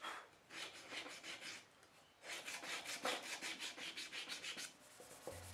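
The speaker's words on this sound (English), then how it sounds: "then a little sanding, moving up through various grits and stopping at 320 grit." A machete blade being hand-sanded through progressively finer grits up to 320, giving steady rhythmic rasping strokes in two bursts separated by a short pause, close and fairly quiet.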